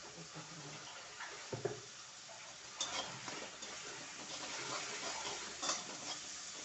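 Onion paste cooking with salt in a pan for a Maharashtrian matki usal, a quiet steady sizzle with occasional stirring scrapes and clicks, and no voices.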